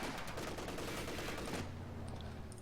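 Sustained machine gun fire rattles in a real-time strategy game as a vehicle's guns pour fire onto an infantry section, a dense loud burst for over a second that cuts off into a quieter rumble.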